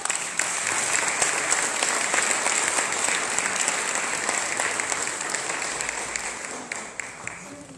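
Audience applause welcoming Virginia Kaladic, national president, at an Italian book presentation for Barbarigo; dense, steady clapping fills the whole stretch from start to finish, loud and close with no break.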